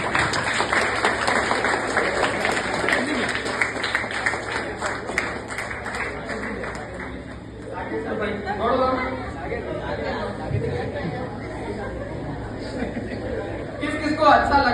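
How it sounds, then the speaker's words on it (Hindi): Seminar audience at a parenting and stress management talk for kids gives a round of clapping that swells under crowd chatter and a speaking voice, then fades into murmuring. "उसके लिए तालियां बजाओ एक बार।"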